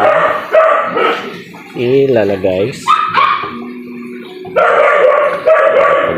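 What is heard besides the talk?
dog barking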